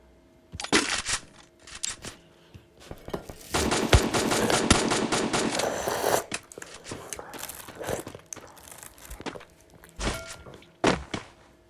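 Rapid bursts of gunfire in the video game Free Fire, including a long, dense volley of automatic shots, with scattered single pops and thuds before and after.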